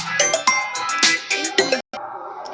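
A mobile phone rings during a maths lesson, a loud, near ringtone of repeated tonal chimes in a quick rhythm that pauses briefly, with some talk around it.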